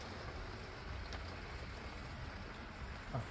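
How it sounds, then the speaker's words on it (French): Heavy rain pouring down outside a van parked at a campsite: a dense, continuous hiss and patter, steady and fairly faint, with a small knock near the end and no talk. "parce que là, ça pleut vraiment bien"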